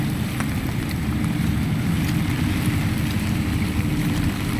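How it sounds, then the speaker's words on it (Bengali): Heavy rain driven by strong wind outside an office, a continuous dense roar with low gusty rumble, steady and loud throughout. "বৃষ্টিতে থই থই করছে পানি"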